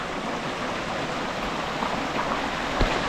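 Hot spring river water at Baslay, Dauin, flows in a steady, close rushing wash. The sound stays even throughout, with a brief splash near the end.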